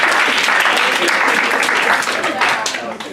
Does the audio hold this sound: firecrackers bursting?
no